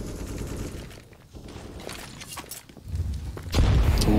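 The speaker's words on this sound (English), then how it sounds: "Ooh, that nade." Grenade blast during a competitive CS:GO match on Inferno, heard as a loud low boom near the end after a stretch of scattered gunfire and game noise.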